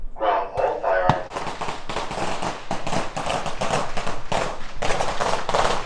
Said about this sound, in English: Doing some mag dumps over there.